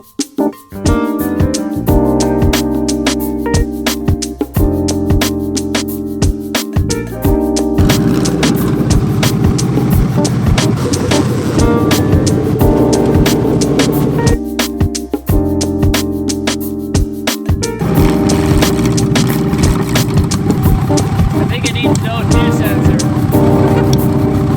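A 1971 Volkswagen Beetle fitted with a swapped Subaru engine drives along a street, its engine droning loudly and steadily with two brief drops in the middle, while a person talks over it.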